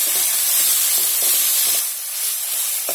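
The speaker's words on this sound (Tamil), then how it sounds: "வதங்கவுமே நம்ம அடுத்து முருங்கைக்கீரையை போட்டுக்கலாம்" Onion and drumstick leaves sautéing in a pan, giving a steady broadband sizzle with soft stirring scrapes. The sound holds close and fairly loud throughout, dips briefly near the end, and no voices are present.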